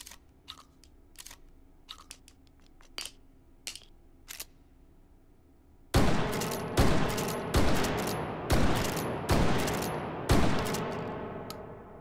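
Shotgun blasts in the VR shooter Hot Dogs, Horseshoes & Hand Grenades: light mechanical clicks and clacks at first, then a series of six loud, booming shots fired at a steady pace, each with a short decaying tail.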